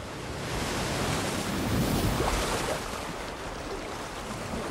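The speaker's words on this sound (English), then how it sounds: "just the sound of the sea isn't strong enough on its own to evoke the emotion" Sea surf from a beach battle scene in the war film Saving Private Ryan gives a steady, broad wash of waves that swells gently and then eases. No voices are heard over it.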